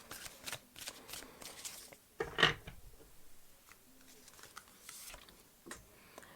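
Tarot and oracle cards shuffled by hand in a quiet room, giving a soft riffling patter with one brief louder burst partway through, and no talking.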